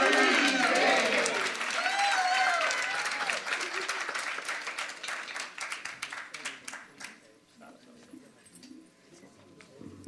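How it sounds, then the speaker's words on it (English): Audience applause after a group song-and-dance performance at a Jain Janm Jayanti celebration, loud and dense at first, then thinning into scattered claps and fading out. "Let's give the group another round of applause"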